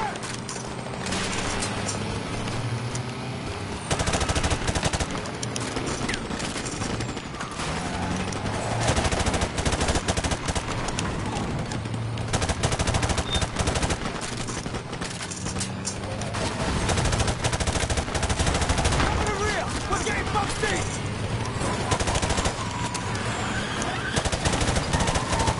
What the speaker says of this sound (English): Shoot the driver.